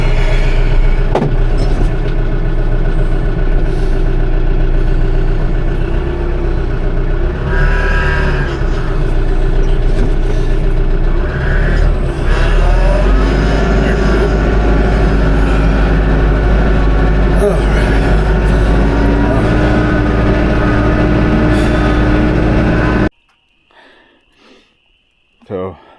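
A tractor engine runs steadily and loudly close by, a continuous low rumble that keeps going for most of the time before cutting out abruptly, leaving near silence at the end.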